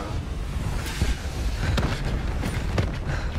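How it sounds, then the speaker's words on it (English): Repeated booming blasts and bursts over a constant noisy background in Black Ops 3, several sharp impacts spaced across a few seconds, like game explosions. "So many explosions, so little kills."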